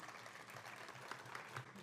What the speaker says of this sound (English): With a thunderous round of applause, please welcome Shri Sridhar Talapaka Garu.